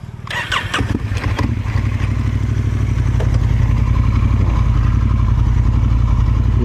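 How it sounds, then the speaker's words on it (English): A BMW GS motorcycle engine catches after a few clattering cranks, then settles into a loud, close, steady throbbing rev as the rider pulls away. "You need to give it some rev, otherwise it won't go."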